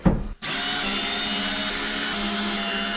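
A power drill runs steadily at close range, backing screws out from the underside of an old wooden workbench during a rebuild; after a brief start it holds a continuous, loud whine with no talk over it.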